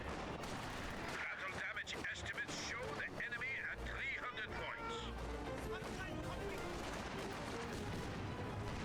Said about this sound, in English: Oh, good grenades from both sides there.